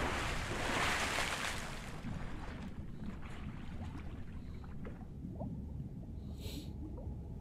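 A body drops into water in The Beast Inside, horror game: a loud, broad splash for about two seconds, then a softer watery wash with small drips and sloshes.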